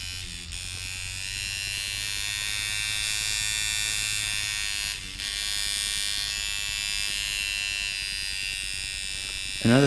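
Tattoo machine buzzing steadily while being tuned with a Mojobox power supply, a continuous near electric drone with dense high harmonics and a brief dip midway, no talking.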